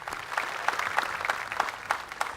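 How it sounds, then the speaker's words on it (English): Clapping from an audience at a 2016 Sri Lankan Entrepreneur of the Year award ceremony, a steady patter of many hands with no voices over it. "give all the winners of tonight a round of applause"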